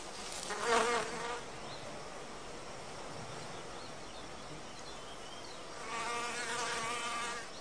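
A male insect buzzes as it flies off an orchid, a faint whine that rises near the start, fades, then swells again near the end.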